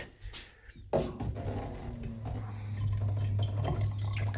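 Water pours steadily from a Vio Filters AW-RB36 water dispenser, starting with a few drips and then settling into a continuous close stream with no speech.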